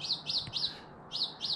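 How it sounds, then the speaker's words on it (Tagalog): A bird repeats a bright, quick chirping call five times in a steady rhythm, close and clear against a quiet background. "na may ibon humuhuni, kumakanta."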